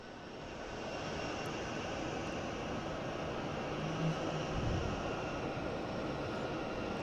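An Alaska Airlines airliner in oneworld special livery taxis in to park at Boston Logan, a steady broad engine roar holding close and level throughout with no voices.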